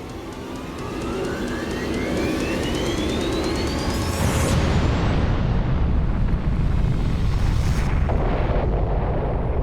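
Dramatized atomic bomb blast over Hiroshima: a rising whine builds into a loud, sustained roaring explosion with a deep rumble that swells and surges again near the end.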